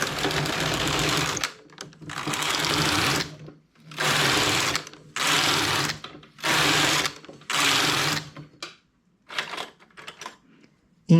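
A knitting machine carriage sliding across the needle bed in repeated passes, each a loud rattling whir lasting about a second, separated by short quiet gaps and lighter clicks.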